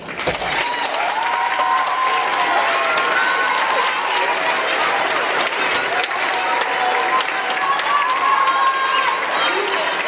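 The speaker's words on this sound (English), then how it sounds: "will you stand up and let's give them a hand?" A school auditorium audience applauds an all-county honors children's chorus, with parents standing. The clapping is loud, dense and continuous, voices and a few cheers mix into it, and it holds steady for about ten seconds.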